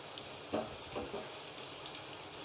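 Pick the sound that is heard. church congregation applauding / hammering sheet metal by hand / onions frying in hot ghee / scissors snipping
onions frying in hot ghee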